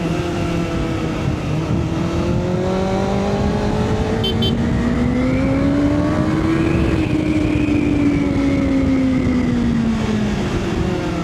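A Kawasaki ZX6R motorcycle engine drones loudly and continuously while riding, its pitch rising and falling smoothly with the throttle, heard close up over steady wind noise.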